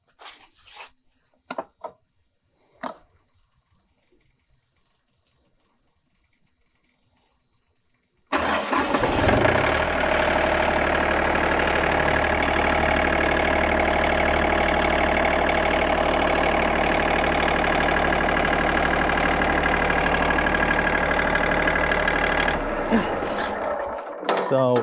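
A Wood-Mizer LT40 Super Hydraulic sawmill engine cranks and catches after a few quiet handling clicks, then settles into a loud, steady, close idle that drones on for about fifteen seconds before cutting off.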